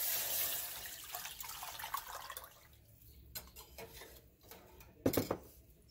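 Horse gram cooking water poured into a pan of spiced Kongu-style horse gram dal, a brief splashy rush of liquid at first, then quieter stirring and a short clatter near the end.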